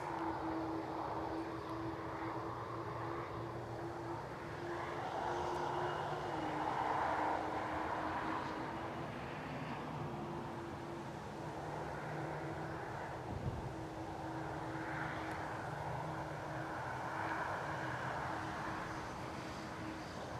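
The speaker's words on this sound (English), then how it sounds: "And that is the Air France departure." Air France airliner taxiing out for departure at Newcastle International Airport, a steady distant jet engine whine and rumble with wind, moderately loud and continuous throughout, no voices.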